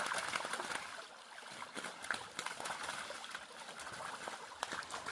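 Water trickling and flowing over a shallow creek bed, a faint, continuous babbling with small splashes and ripples, heard alone without talk.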